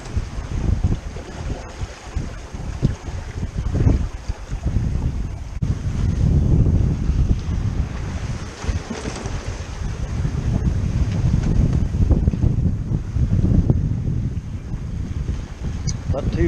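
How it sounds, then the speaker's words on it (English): Strong wind roars over the microphone and sea waves wash and slap aboard a Nova 28 sailboat under reefed sails, a continuous loud, rough rush with surging swells throughout. "the wind and the waves."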